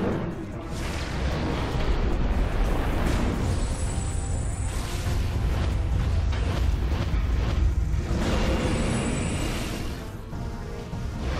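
Sustained rumbling blasts and booming bursts from explosions in the Metroid Prime 3: Corruption video game, loud and dense for several seconds with mechanical noise mixed in.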